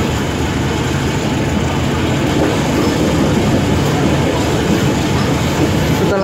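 A passenger train nears Sukatani station, a loud, continuous onboard rumble of wheels and carriage noise filling the whole stretch without breaks.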